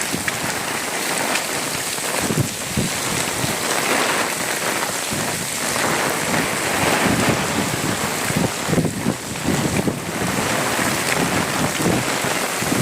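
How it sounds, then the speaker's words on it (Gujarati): Heavy rain pours in Dumra, Kutch, with strong gusting wind driving it. A loud, steady roar of rainfall and wind rumble fills the whole stretch with no voices. "વરસાદ ફૂલ ચાલુ છે અને પવન પણ હમણાં ચાલુ થયો છે"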